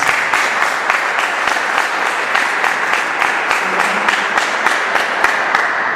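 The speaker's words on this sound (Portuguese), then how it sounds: "Dê uma salva de palmas às pessoas especiais" Audience applause during a church sermon, dense rhythmic clapping from a sizeable crowd, loud and continuous for several seconds with a faint voice briefly under it.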